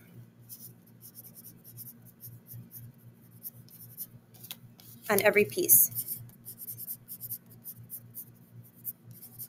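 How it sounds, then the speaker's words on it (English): Soft scratching of a pencil or pen writing a name on cardboard, a steady rhythmic scribble heard close but faint under a low electrical hum, with a brief spoken phrase partway through. "make sure you write your name clearly on the cardboard"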